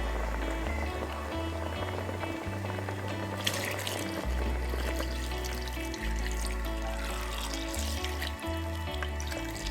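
Water poured into a pot of seasoned meat with ginger, white pepper and garlic for Cameroonian okra soup, a steady continuous pour and trickle heard alone and fairly close, with faint background music.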